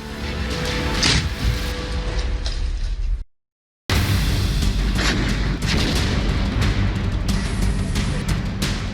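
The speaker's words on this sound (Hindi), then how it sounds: "आरपीओ शमेल से अपने दुश्मन पर बमबारी कर रहे हैं" An RPO Shmel rocket launcher fires in a combat setting, with repeated loud booms and explosion bursts, some near and some distant, followed by a sudden brief silence and then more blasts and rumble.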